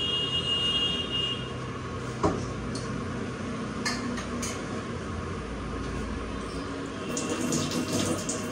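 Tap water runs steadily over a wok being washed in a home kitchen, a constant close rush with a sharp metallic clank partway through and a few faint clinks near the end.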